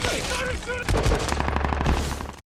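Rapid bursts of gunfire from the film 13 Hours crackle in a dense volley, loud and continuous for about two seconds before cutting to silence.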